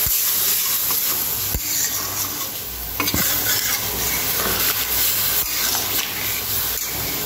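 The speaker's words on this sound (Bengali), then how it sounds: "এবার আমি এর মধ্যে জল দিয়ে দেবো। ভালো করে নাড়িয়ে চাড়িয়ে" Chicken do pyaza with added water steams and hisses in a pan as it is stirred steadily, a dense close sizzle with scraping strokes and a sharp clack near the start and around three seconds.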